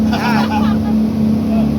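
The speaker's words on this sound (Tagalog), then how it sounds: "Ang ingay naman ng motor." A boat motor drones steadily and loudly with a constant low hum near Caticlan, Boracay, while a voice speaks briefly over it near the start.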